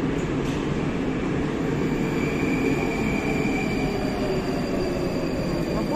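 A Moscow metro train on the Big Circle Line rumbles steadily at a station, a dense continuous roar of wheels and motors with a faint high whine above it, loud and unbroken, no voices.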